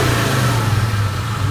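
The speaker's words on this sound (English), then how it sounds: "You heard that whine." A 2003 Ford Mustang SVT Cobra with a stock Eaton supercharger runs loud and close, a steady engine drone carrying a high, continuous supercharger whine with no pauses.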